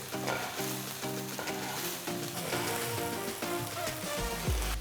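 Jeera rice is stirred in a hot pan, giving a steady sizzling hiss with soft scraping stir sounds and a low thump near the end.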